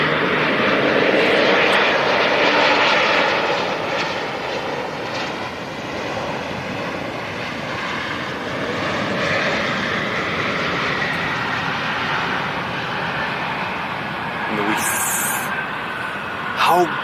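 An airliner in Aurigny livery at London City Airport, its engines a loud, broad roar that swells early, then settles into a steady rumble while the aircraft moves.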